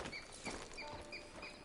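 Horse hooves clip-clop at a steady walking rhythm in Red Dead Redemption 2, with repeated light hoof strikes over a background of ambient outdoor noise and no speech.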